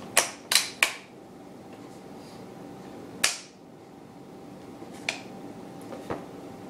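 A British .303 Mark III rifle from 1944 is stripped, with the magazine and bolt removed: a quick triple of sharp metallic clicks, a louder clack, then a few lighter taps spaced apart in a quiet room.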